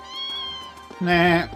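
Cats in a video game (The Legend of Heroes: Trails of Cold Steel): one meows loudly near the end, a drawn-out tonal cry, after a stretch of softer steady tones and a brief spoken word.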